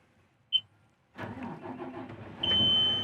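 A Bell articulated truck's diesel engine starts after a single short beep, cranking and catching into a steady, loud idle, with a sustained warning tone over the running engine near the end.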